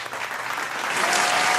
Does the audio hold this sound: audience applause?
yes